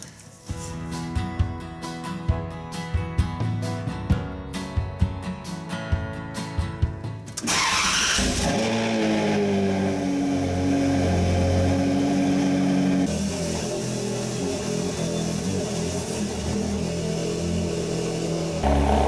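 Ferrari 360 V8: a rapid series of starter clicks and cranking, then the engine catches with a loud bark and settles into a steady, rumbling idle that dips slightly as it runs on.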